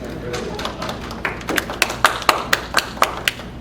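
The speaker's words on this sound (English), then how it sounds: "Look at that, we're just clapping" Audience at a Miss Lilly Carolina pageant claps in a steady rhythm of sharp, fairly close hand claps, building through the moment, with talk and background murmur underneath.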